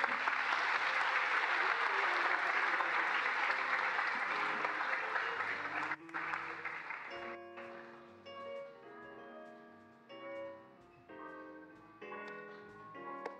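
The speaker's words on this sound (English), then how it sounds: "Give them a big applause." Sustained loud applause from a graduation ceremony audience for BSc security studies graduates, dense and even for about six seconds before cutting off, followed by scattered claps and a few voices.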